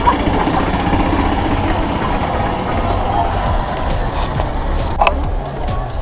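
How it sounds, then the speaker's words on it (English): A rental golf cart's engine runs steadily and loudly up close, a continuous low rumble with a faint rattle, on a tour of Catalina Island. "We're going on a golf cart rental tour."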